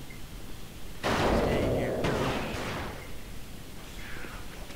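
A turret in the PS2 video game The Thing opens fire in one loud, sustained burst lasting about two seconds, then fades into quieter game noise.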